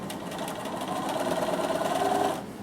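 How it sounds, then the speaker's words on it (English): Bernina sewing machine top stitching a ladies' top, a steady fast rhythmic hum and needle clatter running continuously for over two seconds before slowing to a stop, close and clear. "I'll show you how to top stitch"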